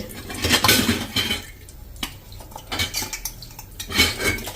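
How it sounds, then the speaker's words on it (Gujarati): Metal utensils and pots being washed in a home kitchen clatter and clink in irregular bursts, close and fairly loud, with no talking. "તો આપણે આ રીતે વાસણ ધોઈ અને પછી આપણે એને સૂકવીએ છીએ।"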